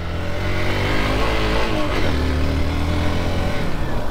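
A motorcycle climbs an uphill unpaved road near Nuwakot, the engine loud and close with a steady throbbing drone and gear-shifting pitch sweeps throughout.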